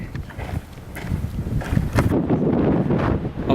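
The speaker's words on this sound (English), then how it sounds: "It's getting really windy" Strong gusty wind blows before a storm, buffeting the microphone with rough, swelling rumbles that grow louder and denser toward the end.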